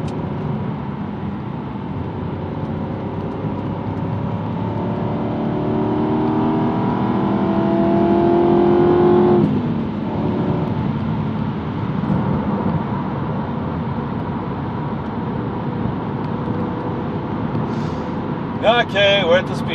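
A car engine rises in pitch as it accelerates, its hum climbing steadily before easing off and settling into a steady cruise, with a brief rattle near the end.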